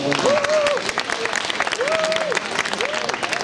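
Steady applause from a crowd at a Malaysian school nasyid competition in Melaka, with voices audible alongside and three short rising-falling tonal sweeps recurring through it.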